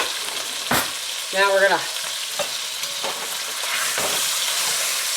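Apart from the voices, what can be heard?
roast meat searing in butter with garlic powder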